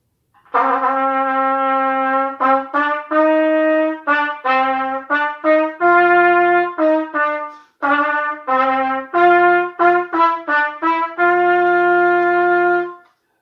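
A bright trumpet plays a line of O Canada note by note, steady and clear, with short gaps between phrases and no voices.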